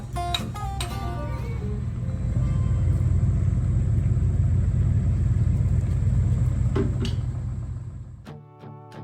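Diesel engine of a Bobcat excavator running steadily while digging, a continuous low rumble close by that holds for most of the clip, with a few sharp clanks near the start and end.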